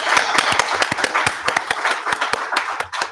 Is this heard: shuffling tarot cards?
no